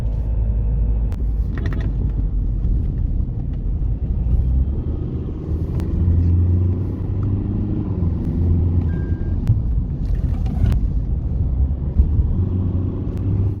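A Tata Harrier SUV driving on the road, heard as a steady low rumble of engine and road noise, with occasional faint clicks and no talk.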